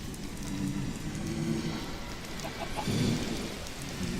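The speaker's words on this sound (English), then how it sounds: "And it's raining." Rain in the Minecraft Skyblock game, a steady hiss of falling drops with low rumbling swells like distant thunder, continuous and without speech.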